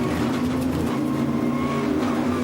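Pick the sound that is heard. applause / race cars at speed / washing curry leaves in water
race cars at speed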